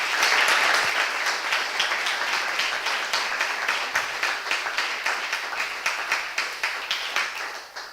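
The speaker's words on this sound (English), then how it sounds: "I would like to ask you for a big round of applause for all of them" An audience at a pediatric innovation day event in Riga applauds, steady crowd clapping that gradually settles into a rhythmic, synchronized beat as it fades toward the end.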